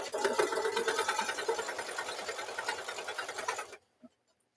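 A sewing or embroidery machine runs a placement stitch in one continuous, evenly rattling burst, fairly close and loud, then stops abruptly with a single soft click afterward.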